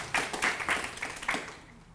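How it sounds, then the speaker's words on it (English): At a tech career event, an audience gives a short burst of clapping, a quick patter of claps that thins out and fades within two seconds. "Tess, please also let's clap for Tess."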